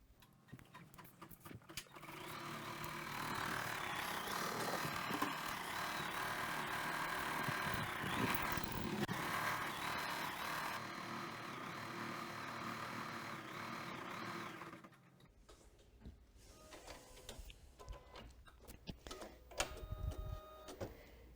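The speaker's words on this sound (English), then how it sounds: "we are going to stitch the background quilting, and then we will stitch the placement line for the stem" A Kimberbell embroidery machine stitches background quilting with a steady, busy mechanical whir and rapid ticking that runs for about twelve seconds and then stops, leaving quieter handling noises.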